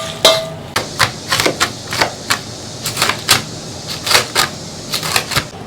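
A knife chops food on a cutting board in the kitchen while a Sichuan dish is being cooked, giving a steady run of crisp, close wooden knocks, roughly two or three per second, with no talking.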